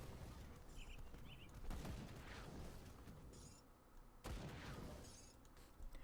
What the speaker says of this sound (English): Those are the Aether missiles.